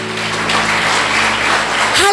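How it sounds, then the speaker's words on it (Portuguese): A church congregation applauds the Lord Jesus with steady clapping. A sustained organ-like tone drones underneath, and a pitch glide rises near the end. "pode aplaudir ao Senhor Jesus?"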